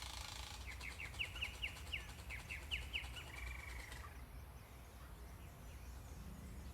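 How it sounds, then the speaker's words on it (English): Birds chirp in Trinidad's Royal Botanic Garden, a rapid series of bright repeated notes for a few seconds before fading, set against a steady hiss of outdoor ambience. "Listening to the birds."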